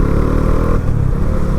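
A 2019 Bajaj Dominar 400 BS4 motorcycle rides along a highway, its engine droning loud and close with a steady mid-range hum that dips slightly midway, mixed with wind rush.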